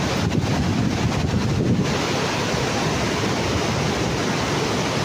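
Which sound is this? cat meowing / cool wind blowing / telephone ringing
cool wind blowing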